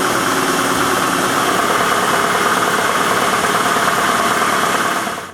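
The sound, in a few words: large electric motor of a workshop dust extraction system running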